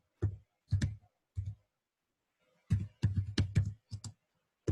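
Crisp computer mouse clicks in an otherwise quiet room, a few spaced single clicks followed by a quicker cluster, close and dry.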